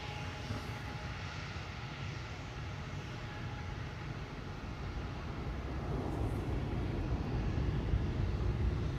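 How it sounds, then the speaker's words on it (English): A propeller airplane at Amsterdam Schiphol Airport, a steady droning engine hum that grows slightly louder toward the end, heard from a distance against airport ambience. "Thinking maybe I was hearing the propeller of this airplane earlier."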